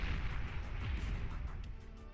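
Tsar unit's massive cannon fires in the strategy game Beyond All Reason, giving deep, rumbling booms and bursts that roll on continuously, loud and layered like distant artillery, with no voices.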